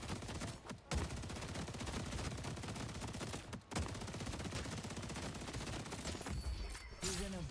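Rapid sustained gunfire from the video game Deadlock, dense repeated shots nearly continuous with two brief pauses, fairly loud and close in the game mix.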